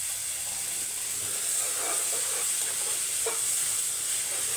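Onions frying in butter with tomato paste stirred in, a soft continuous sizzle and hiss with faint scraping stirs, fairly quiet and steady with no talking.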